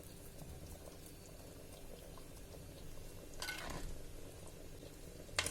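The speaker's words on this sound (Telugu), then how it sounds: "ఇలా ఆయిల్ అంతా పైకి తేలే వరకు ఉడికించుకోవాలి." Mango fish curry simmering in a pot on the stove, a quiet steady bubbling with one brief louder stirring or splashing moment.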